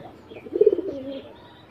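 Pigeons nesting on eggs in a home coop give a short, soft cooing call, a few throaty pulses followed by a slightly longer drawn note, close by against quiet background.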